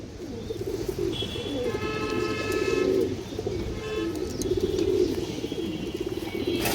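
A female pigeon coos in soft, repeated rolling phrases, moderately near, in two main bouts over steady background noise with no talk.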